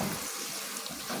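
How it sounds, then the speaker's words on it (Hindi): Jaggery water pours into a pan in a continuous soft splashing, liquid stream heard close and fairly quiet, with no voices. "अब इस मोमेंट पर मैं डालूंगी जो मेरा ये गुड़ का पानी है"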